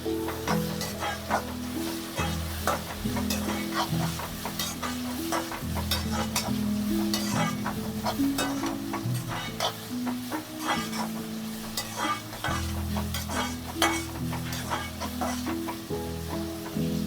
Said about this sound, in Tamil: தக்காளி இப்போ போட்டாச்சு.